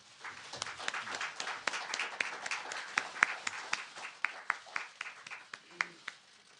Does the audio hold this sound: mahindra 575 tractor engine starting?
no